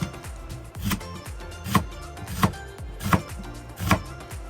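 Onions are sliced with a knife on a board, about six evenly spaced, crisp cutting thuds against a soft background, close and clear with no talking.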